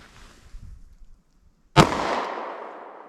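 A single sharp, loud .45 ACP handgun shot with Federal Hydra-Shok ammunition, cracking out after a quiet pause and trailing into a decaying outdoor echo, with faint rustling beforehand.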